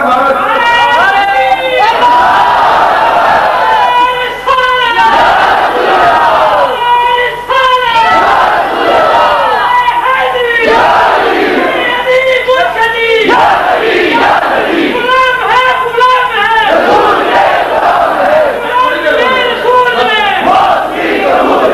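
A large crowd at a Milad un Nabi religious gathering shouts rhythmic devotional slogans, loud and sustained with overlapping voices throughout.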